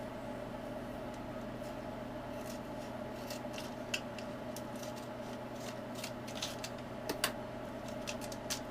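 Plastic being cut with scissors to make a one-gallon minnow and crawdad trap: a series of short, crisp snips at an uneven pace, quiet and close, over a low steady hum.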